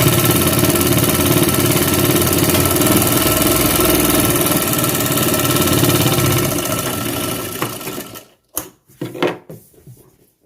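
A tailor's sewing machine stitches a double seam with a loud, dense mechanical rattle that runs continuously for about eight seconds, then slows and stops in a few short bursts.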